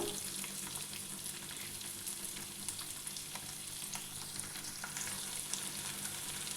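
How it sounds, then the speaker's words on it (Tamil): Small onions fry over a low flame in a pan for South Indian fish curry, giving a steady close sizzle with occasional crackles and stirring, no talk. "ஸ்டவ்வை லோ ஃப்ளேமில் வச்சுட்டு நல்லா வறுத்து விட்டுக்கோங்க."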